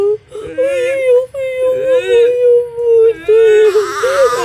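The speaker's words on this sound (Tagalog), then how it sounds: "Narinig niya kasi may batang umiiyak." A small child cries and whimpers in repeated wailing bursts with short pauses between them, loud and close, and no one talks over the crying.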